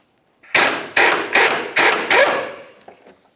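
On a 2000-2006 Chevy Tahoe, a 21mm socket on an extension works the rear shock mounting nut, producing five sharp, loud, evenly spaced rattling bursts in quick succession, then a faint tail, with no voices.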